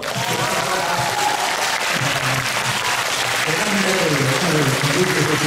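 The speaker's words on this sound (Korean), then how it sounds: "네, 박수 한번!" A crowd applauds steadily and loudly at a film festival audience talk in Busan, sustained clapping filling the room, with voices faintly audible underneath.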